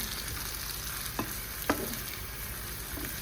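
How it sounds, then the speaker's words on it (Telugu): Capsicum with ginger-garlic paste fries quietly in a pan, a soft, constant sizzle with two brief scrapes of stirring near the middle. "ఇవన్నీ మంచిగా ఫ్రై అయ్యేదాకా"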